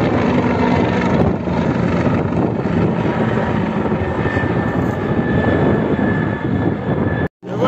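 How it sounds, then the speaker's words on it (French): A firefighting helicopter shuttling back and forth to fill a large water bag gives a continuous loud rotor and engine roar with wind buffeting, steady throughout and cut by a brief dropout near the end. "ils font les allers-retours avec l'hélicoptère pour aller remplir en eau un gros bag"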